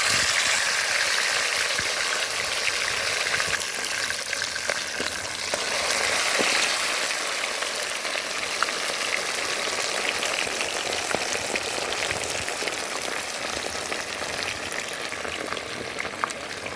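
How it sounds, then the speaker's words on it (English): Fish frying in a pot of hot oil, a steady dense crackling sizzle that carries on evenly throughout, moderately loud with no talking. "So these are the fried fish that you have just seen me fry."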